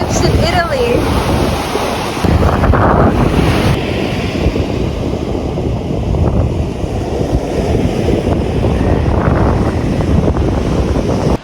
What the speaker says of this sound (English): I've never seen these kinds of waves in Italy.